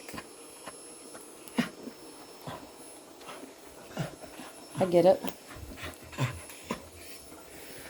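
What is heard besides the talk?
dog panting and whimpering in panic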